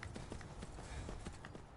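Horse hooves clip-clop in Skyrim as a wild red mare is approached near Whiterun, a steady run of soft hoof knocks over a constant game ambience.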